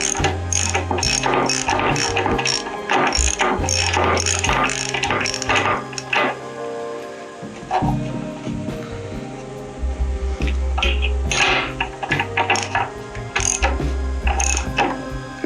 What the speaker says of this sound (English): Hand tight it first, you don't want to damage the threads.